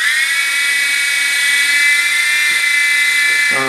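Griffin Helo TC app-controlled toy helicopter with its small electric motor spinning up into a steady, loud high-pitched whine that holds constant, shifting slightly in pitch at the very end, with no talking.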